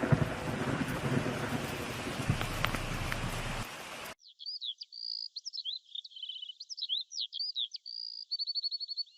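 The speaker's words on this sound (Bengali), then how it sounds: "যা বৃষ্টি হচ্ছে, থামার নাম তো নেই। আর তাছাড়া যে বড় বড় ডাক মারছে" Heavy cartoon rain pours in a dense, steady roar for about four seconds in a Bengali cartoon, then cuts off abruptly to quiet, high chirping birdsong.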